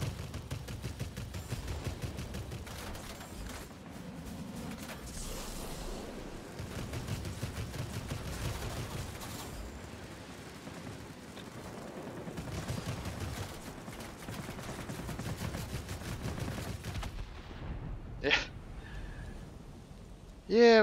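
Gunfire aimed at the player's plane in World of Warplanes, a German Messerschmitt Me P.110 heavy fighter, heard as sustained rattling bursts over engine drone, with sharper cracks near the end and people talking.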